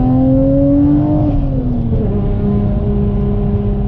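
Midnight Purple Nissan R33 GTR V-Spec engine pulls hard up a mountain touge road, its loud close drone climbing steadily in pitch, then dropping briefly at a gear change and settling into a steady run.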